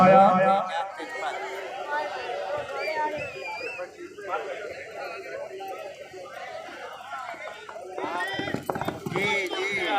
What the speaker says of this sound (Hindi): घोड़ा आया।